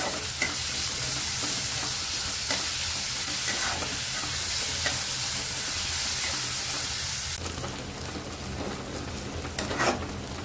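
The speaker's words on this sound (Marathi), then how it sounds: "कांदा चांगला लाल होईपर्यंत परतून घेऊ" Chopped onion sizzles steadily in hot oil in a pan while cooking prawn masala, a dense close frying hiss with occasional stirring scrapes; the sizzle softens slightly partway through.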